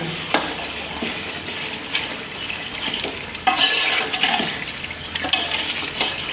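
Yogurt being stirred into sizzling masala for aloo gosht, a spoon scraping and clinking against the pot in irregular strokes over steady frying sizzle, close up, with no talking.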